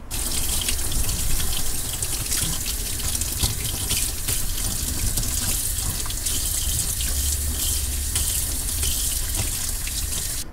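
Water runs steadily from a kitchen tap into a sink as a fish is washed for sashimi, a continuous splashing gush with small irregular drips and clatters throughout.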